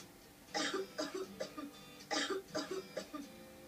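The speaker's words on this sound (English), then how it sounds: "Since evening, I'm coughing a lot." Two bursts of harsh coughing, each a quick run of several coughs, close and fairly loud, with short quiet gaps between.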